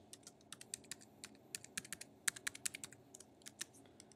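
Login credentials typed on a computer keyboard, a quick, uneven run of light clicking keystrokes, close up and soft against a quiet room.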